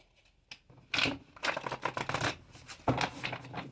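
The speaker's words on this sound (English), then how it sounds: "Get these shuffled real quick." A deck of cards being shuffled by hand, with bursts of riffling flutters, a quick snap near the start and several rapid passes, close and fairly quiet, with no talking.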